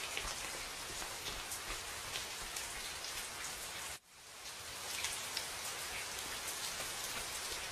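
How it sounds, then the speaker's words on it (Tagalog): Heavy rain pours steadily and loudly on an outdoor surface, a dense continuous hiss that briefly dips once before resuming at full strength. "lakas ang ulan, oh."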